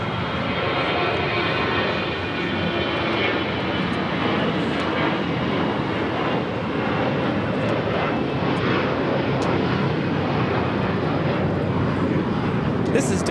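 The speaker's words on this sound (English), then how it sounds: "This is Delta Airlines 2063 taking off to New Orleans on an A321" Delta Airlines Airbus A321 taking off at LAX, a sustained loud jet roar with a few sharp clicks scattered through it.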